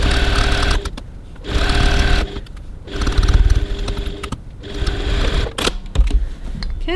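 Sewing machine stitching along the side of a handbag, loud rapid mechanical whirring in several bursts separated by short pauses.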